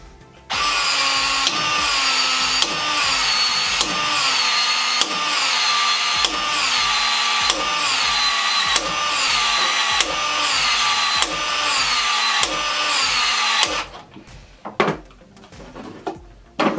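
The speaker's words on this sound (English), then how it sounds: "All I want to do is insert this, expand the tube, and then put my flow-through fitting on." A DeWalt cordless PEX expander tool expands PEX tubing for a Uponor flow-through fitting, giving a loud, steady motorized whine in about a dozen rhythmic pulses, then stopping with a few sharp clicks and handling knocks.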